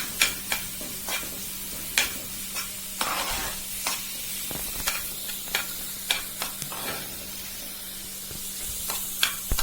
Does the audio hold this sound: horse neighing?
no